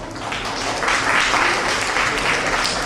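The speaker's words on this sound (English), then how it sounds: "So I'd like everyone to give this group as well a round of applause." A seated conference audience gives a group a round of applause, dense continuous clapping at a steady level for the whole stretch, full and close.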